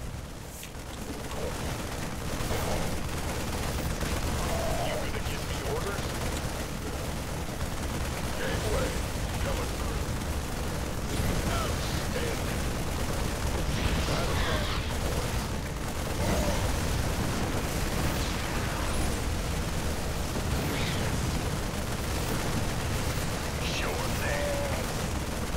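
Continuous StarCraft 2 battle, a dense wash of rapid gunfire and repeated explosions rumbling for the whole stretch, loud and unbroken, with game voices talking over it.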